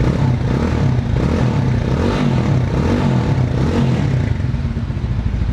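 Lifan K29 250cc single-cylinder motorcycle engine is revved close by, a loud, deep, clattering exhaust rising and falling in repeated surges, with no voices.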